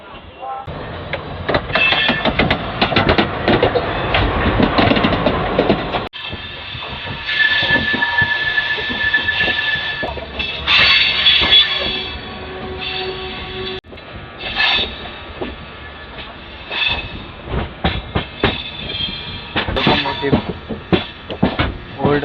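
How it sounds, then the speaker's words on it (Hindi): The Sachkhand Express train runs along the rails under a bridge near Delhi's Paharganj, a loud rumble with rhythmic wheel clatter and occasional squeals, broken by a couple of abrupt cuts, and a voice speaks over it at times. "इस ब्रिज के नीचे से हमारी ट्रेन गुजरती हुई सचखंड एक्सप्रेस"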